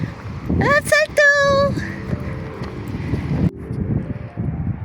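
Wind blows steadily outdoors at a horse yard, a low, buffeting rumble across the microphone throughout, under a loud shouted call near the start.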